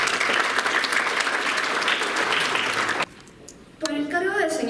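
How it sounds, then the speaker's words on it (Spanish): Loud applause from a seminar audience at a law school event in Arequipa fills the opening three seconds, then drops away into a quiet pause before a voice begins speaking. "Fuertes aplausos, por favor."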